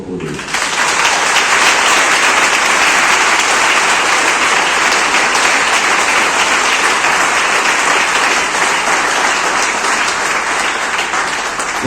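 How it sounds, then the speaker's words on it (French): A church congregation at an anticipated Sunday Mass applauds loudly, producing dense, sustained clapping that fills the space for about twelve seconds without a break. "acclame très fort pour lui."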